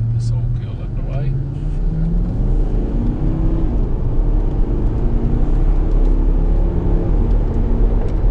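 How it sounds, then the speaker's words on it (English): A taxi accelerating around a track in the Highlands, its engine droning steadily and rising in pitch as it speeds up, heard from inside the cabin while people talk over it. "Right, it really accelerates that thing."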